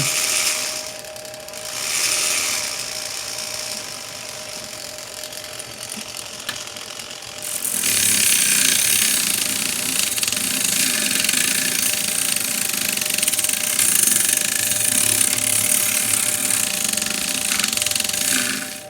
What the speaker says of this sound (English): to one of the Microlux sanders, and it really works great. I can speed it up or slow it down.